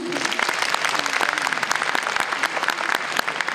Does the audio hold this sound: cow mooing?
no